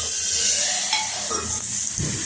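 Garlic, mustard seeds, cumin, dried red chillies and curry leaves sizzle and crackle in hot oil for a dal tempering, a steady bright hiss close by with a brief stir near the end.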